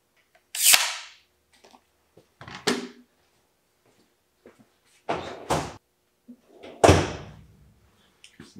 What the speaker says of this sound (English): Just push on that little thumb,